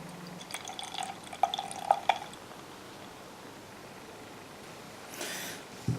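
Beer pours from a bottle into a glass in a few short glugging, splashing bursts, close and moderately loud, followed by a brief fizzing hiss as the head forms.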